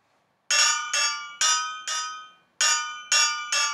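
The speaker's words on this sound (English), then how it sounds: "you get inside these holes, and then an anvil falls on you" An anvil falls on the player in the Tetris Escape minigame, giving six bright, ringing metallic clangs in two quick groups of three, each decaying before the next, with no other sound.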